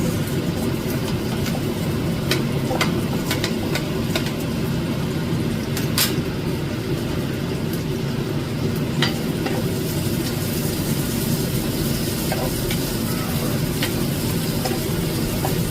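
Onions added to garlic in a pan fry with a constant, loud, low sizzle and rumble, with occasional faint clicks of a utensil against the pan.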